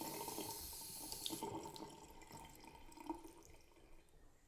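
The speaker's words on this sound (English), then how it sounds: "the water came out so fast and hard" A PARLOS waterfall bathroom faucet runs with a steady, rushing stream of water, close and fairly quiet, with no voices over it.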